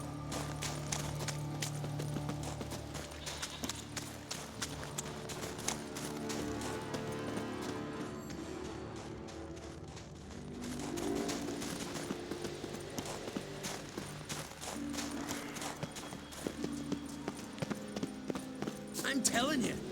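Horse hooves gallop in The Witcher 3, a dense, rapid clip-clop drumming on and on at close range, carrying on under voices talking over it.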